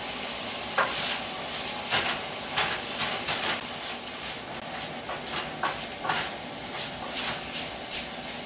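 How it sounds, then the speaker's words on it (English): Vegetables and garlic are stirred in a hot pan, a loud, continuous sizzle and hiss broken by regular spoon scrapes and knocks about every half second, close up, with no voices. "after I add the vegetables and the garlic, I'm supposed to stir and cook for a minute"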